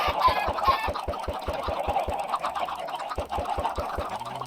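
Chickens cluck in the video game Minecraft, faint bird sounds over a fast regular tapping rhythm of clicks and game noise, with no talking.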